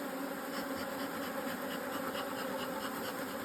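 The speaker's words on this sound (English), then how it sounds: "See, look how many bees in there." Honey bees in an open hive being inspected hum in a dense, steady swarm drone, close and continuous with no talking.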